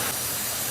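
Steady hiss from the PCV valve in the valve cover of a 2003-2011 Ford Crown Victoria engine, a continuous broadband rush lasting under a second, fairly loud and close with no talk over it.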